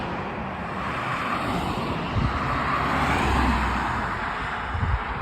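A cherry-red Mazda MX-5 drives past on a roadway, a broad rushing engine and tire sound that swells and recedes amid steady traffic noise.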